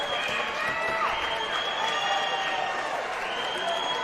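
Spectators at a girls' state swimming finals keep up a continuous cheering roar with rising shouts and whistles, filling a large indoor pool hall in one sustained wash of noise.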